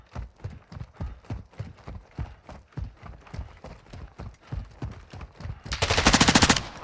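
Rapid bursts of automatic gunfire in the shooter game Call of Duty: Modern Warfare II, steady repeated shots for several seconds, then a louder, denser sustained burst near the end.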